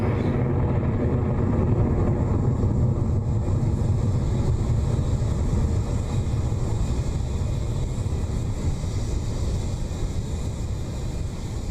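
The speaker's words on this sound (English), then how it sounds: "The beginning of the swarm has begun its ride to space with that clean Electron liftoff from LC-1." Rocket Lab Electron rocket lifting off from Launch Complex 1, a steady, dense broadband roar with deep rumble that holds loud and continuous throughout, with no voices.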